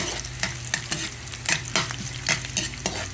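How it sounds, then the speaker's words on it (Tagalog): Garlic, onion and a little ginger sauté in a hot pan, a steady close sizzle broken by repeated sharp scrapes and clacks of a spoon stirring every half second or so, with no talking. "Lulutuin natin ng konti yung bawang, yung sibuyas tsaka konti luya."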